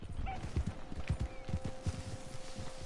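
Horse hooves clip-clop in the Red Dead Online video game, a steady rhythmic run of close, thudding hoofbeats at a trotting pace, heard alone without talk.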